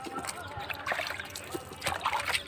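Water splashes and trickles as it is poured over freshly sown coriander and chilli plants in a rooftop garden, coming in several uneven bursts at close range, with voices talking in the background.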